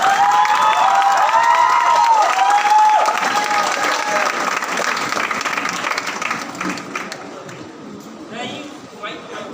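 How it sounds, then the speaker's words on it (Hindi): An audience at a computer training company event claps loudly and cheers, with whistles and shouts early on, the steady applause tapering toward the end as voices rise. "मैं चाहूँगा हमारे कंप्यूटर प्रेमी से जोरदार तालियां बजाएं।"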